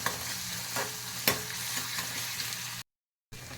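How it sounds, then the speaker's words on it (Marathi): Onion and finely chopped garlic frying in hot tempering oil for a Marathi dish, a steady close sizzle with a spoon stirring briefly through it, then a short drop to silence before the sizzling resumes. "त्याच्यानंतर कांदा घालते कांदा भाजत आलेला आहे त्याच्यामध्ये मी आता लसूण घालते बारीक चिरलेला चॉप केलेला"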